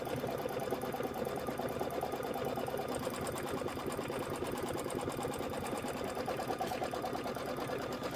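An embroidery machine stitches a background tack-down onto muslin or no-show cutaway mesh, a steady rapid mechanical whirring and needle chatter running evenly throughout, close and moderately quiet, with no voices.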